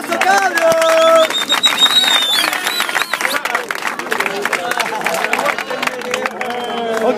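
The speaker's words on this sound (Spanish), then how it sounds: "¡Un aplauso, cabros!" A crowd at a rap battle claps and cheers after a round, with a lively burst of applause and hubbub while voices shout over it at close range.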